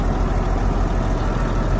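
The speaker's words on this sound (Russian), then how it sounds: "Двигатель работает очень хорошо, прекрасно просто." An MTZ 1221.2 tractor engine idles at close range, giving a steady, loud, low rumble with no variation in pace and no voices over it.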